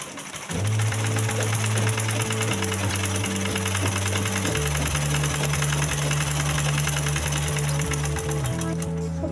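A sewing machine set to a small stitch length runs in a fast, loud, continuous mechanical rattle for about nine seconds, with steady vibration beneath and background music alongside.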